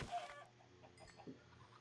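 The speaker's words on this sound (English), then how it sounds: "These are my chickens." Backyard chickens cluck softly a few times nearby, short low clucks spaced out against a quiet background.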